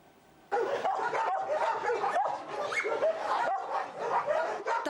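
Several dogs bark and yip together, loud and close, a busy overlapping chorus of barks with whimpers mixed in.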